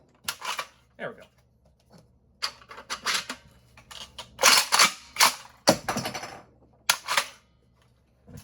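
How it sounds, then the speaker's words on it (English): Breacher third prototype toy shotgun firing, a series of sharp, close snapping clicks and clacks at irregular intervals, some grouped in quick bursts, with mechanical handling noises and a voice speaking in between. "So there's that third prototype firing demo."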